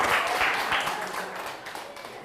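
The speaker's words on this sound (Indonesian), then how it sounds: "Ya, tepuk tangan, teman." Students in a classroom clap for a classmate, a moderate patter of applause that thins toward the end, with faint chatter mixed in.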